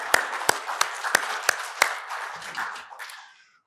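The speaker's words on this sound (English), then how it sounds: "let's give them a round of applause" A small audience at a membership meeting claps, starting with a few sharp separate claps that blend into a short, light round of applause before fading out.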